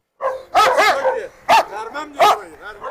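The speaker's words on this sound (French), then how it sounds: "Là, il est en laisse, il aboie." A leashed dog, in a yard with a Dogo Argentino and a Cane Corso, lets out several loud, close barks in uneven bursts with short pauses, some with a whiny, yelping edge.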